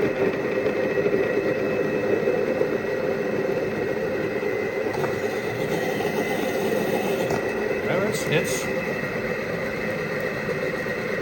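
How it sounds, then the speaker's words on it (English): A CHEF ROBOT UltraCook food processor cooking machine runs with a steady, fairly loud motor whir and vibration, a voice speaking over it briefly. "We don't use a lot of food processors, so I don't know how fast that's supposed to spin."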